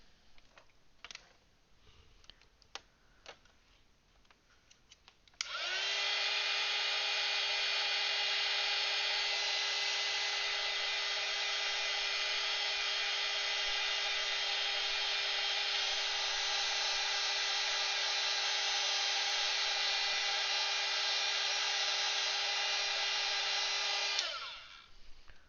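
Caran d'Ache NeoColor II artwork is dried with a hair dryer. A few light taps come first, then a loud, steady motor whine and airflow runs for about twenty seconds before it switches off.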